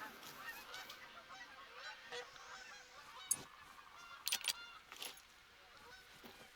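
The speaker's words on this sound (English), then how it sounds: "Okay, so I'm hearing geese." Goose honks from the hunting video game The Hunter: Call of the Wild ring out in several sharp, separate bursts over a soft outdoor ambience, moderately distant and irregularly spaced.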